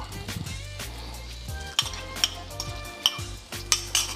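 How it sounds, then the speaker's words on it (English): An egg drops into a hot greased pan for chicken fried rice, with a steady sizzle beneath a few sharp clinks of utensils against the pan, close and fairly quiet. "I'm gonna go ahead and just add, you know, my egg."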